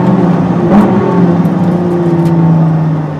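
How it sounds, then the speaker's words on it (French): A 2017 Ford GT sports car accelerates hard on a Michelin test track, its engine note loud and close with a steady, sustained roar that holds strong for about three seconds. "on peut reprendre l'accélération et après on accélère fort"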